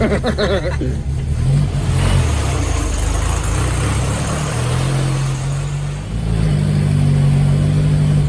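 A 1972 Volkswagen Beetle engine idles loudly, then revs and pulls away in first gear, its air-cooled engine note rising and holding steady close by, with brief voices over it.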